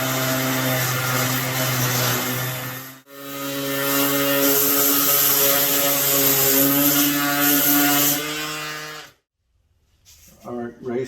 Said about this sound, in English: So we're going to sand this off.